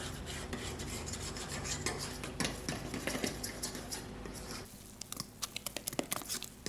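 Beer batter for boneless buffalo chicken wings is stirred in a bowl with a utensil, giving a thick, wet scraping churn that gives way to a string of sharp, rhythmic clicks against the bowl.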